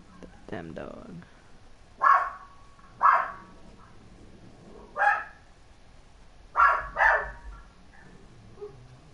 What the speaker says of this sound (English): Damn dog.